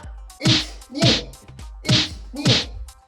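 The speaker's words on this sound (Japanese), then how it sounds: "パンチの音が鳴ったら君もパンチをしていこう" Four punch sound effects for a fighting-scene action game, evenly spaced about half a second apart, each a sharp whooshing thwack with a low thump, loud and alone with no talking.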